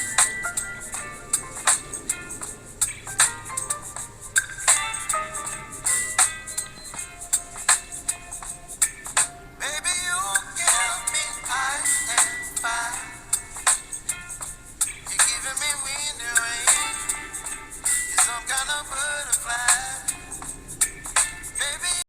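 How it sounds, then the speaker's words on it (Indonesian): Polyphonic ringtone melody played through the small loudspeaker of a Mito 201 feature phone, a bright, tinny tune with rapid repeated notes and clear phrasing, steady and fairly close, with no talking over it. "Dan berikut adalah suara yang dihasilkan dari speaker HP ini"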